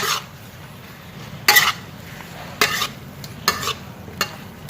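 Sweet and sour meatballs with tomato and spring onion are stirred in a pan over steady sizzling, with repeated scraping strokes of a utensil against the metal at irregular intervals, close up and without talk.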